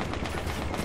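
Dense, rapid gunfire crackles continuously, loud and close, with a broadband burst pattern typical of automatic weapons in Battlefield 1 beta.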